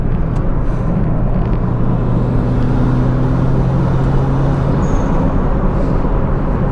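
A turbocharged Mazda Miata making about 300 wheel horsepower accelerates at half throttle, a loud, steady engine drone with a rising tone heard from inside the car, without talk.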